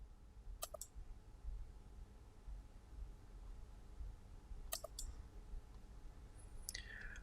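Computer mouse clicks while working in SPSS: a few sharp, quiet clicks, including a quick double click near the start and another pair midway, over a faint room hush.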